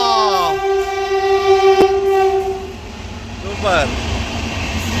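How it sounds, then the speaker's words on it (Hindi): A train passes Ambedkar Nagar railway station near Mhow, sounding a loud, long horn blast followed by a second shorter horn, with someone talking over it. "यहाँ से गुजरने वाली अभी ट्रेनें जो आ रही है"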